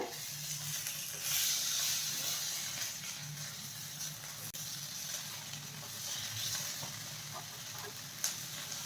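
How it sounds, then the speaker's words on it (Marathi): A beetroot cutlet frying in oil in a pan, a steady soft sizzle and hiss throughout with faint occasional stirring or scraping, close and alone with no talk. "आणि दुसरी बाजू आपण 2 मिनिटे अशी छान फ्राय करून घेऊया"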